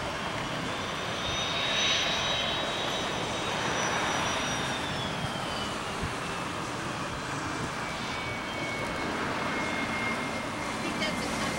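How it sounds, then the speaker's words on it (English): A company jet passes at Addison airport, its engine roar sustained and fairly loud across the whole stretch, with a high whine slowly falling as people talk nearby. "I think that's a company jet."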